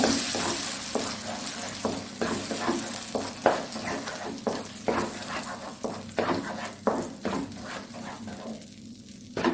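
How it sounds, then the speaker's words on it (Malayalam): Mango pieces frying in ghee in a pan for a mango pradhaman dessert, a steady close sizzle broken by repeated scraping stirs at an irregular rhythm, with no talk. "അപ്പോൾ ഈ മാങ്ങ നെയ്ക്കണം നന്നായിട്ടൊന്ന് വറുത്തിയെടുക്കണം നമ്മൾ"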